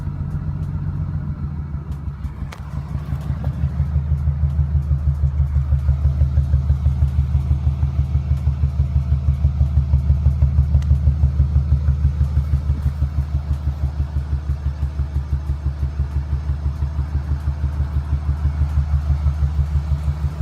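A BMW E36 engine idles close by after a fuel pump repair, a steady low rumble with an even, rapid pulsing rhythm and slight lumpiness, heard alone for about twenty seconds.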